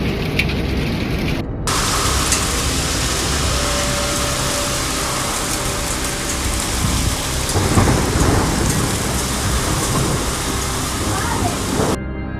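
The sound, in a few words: severe hailstorm with thunder and lightning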